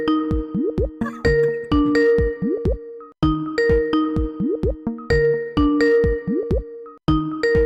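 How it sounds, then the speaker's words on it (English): A ringing bell tone repeats in steady cycles, each with bright sustained pitched notes and quick sliding tones, loud and close and with no voices over it. "Let me lower the sound of the bell so it doesn't hurt your ears"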